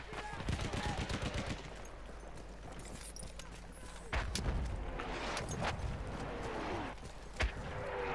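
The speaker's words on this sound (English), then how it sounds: "Wait for the enemy artillery barrage to stop firing." Enemy artillery barrage and gunfire on the Argonne Forest battlefield in Battlefield 1, rapid cracking shots and heavy bursts with thuds and rumbles, loud and chaotic, a voice speaking amid the noise.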